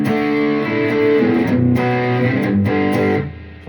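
Electric guitar run through a Boss GX-100 processor with overdrive, distortion and boost, playing loud sustained chords with a thick, saturated tone and brief pick attacks, fading slightly at the end.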